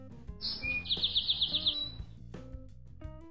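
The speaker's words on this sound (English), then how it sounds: "birds" Bird chirps for an animal-sound puzzle for kids: a bright, loud rapid trill of about seven quick repeated notes, with a brief tone before it and clicks and soft music underneath.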